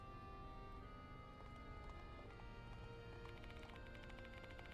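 Horses gallop with a steady clip-clop in the Death Mark 2 video game, the hoofbeats layered over a constant low engine drone on a night expressway with dense musical tones throughout.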